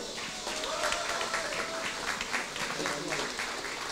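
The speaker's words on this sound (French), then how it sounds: "Mesdames et messieurs, s'il vous plaît, avec vos applaudissements, Monsieur Jan Hamstein" An audience at a company's 40th-anniversary ceremony applauds as a speaker is welcomed, giving a steady, fairly distant wash of clapping that lasts throughout, with some voices mixed in.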